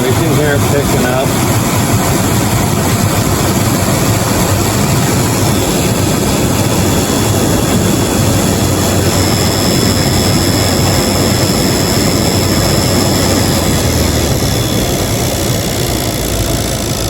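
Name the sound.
1997 Jeep Grand Cherokee blower fan speeding up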